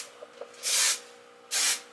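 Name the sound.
hairspray being sprayed on hair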